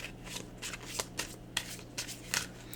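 A deck of cards is shuffled up close, a series of crisp papery riffles and flicks coming in quick irregular bursts over a quiet background.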